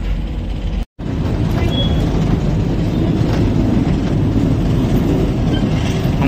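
The Bhakra railway train rumbles along steadily near Nangal, its loud, continuous, close low roar carrying faint wheel and carriage noise throughout, broken by a brief cut near the start.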